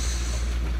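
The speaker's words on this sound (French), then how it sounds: "comme il n'y a pas de vent, c'est le moteur qui va pousser quoi" On a calm sea with no wind, a sailboat motors under engine power near the Dardanelles. A low, steady engine drone and water rush fill a very brief moment, with no voices.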